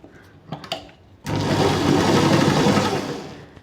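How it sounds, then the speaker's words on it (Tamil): A sewing machine stitching a long straight seam along five and a half metres of fabric: a few soft clicks, then a steady, close, continuous whirring hum that runs on without pause. "அதை ஃபுல்லாக தைச்சிட்டு வந்துடலாம்"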